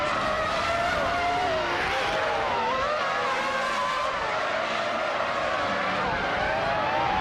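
Sauber C17 race car in a racing video game, continuous loud engine whine with rising and falling revs and tire squeal, mixed with several other cars on track.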